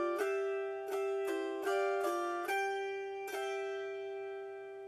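An autoharp plays a melody phrase using a restricted pinch, with finger-picked melody notes over lower thumb notes: seven bright plucked chords ring out in an uneven rhythm, close and clear, the last left to sustain and fade.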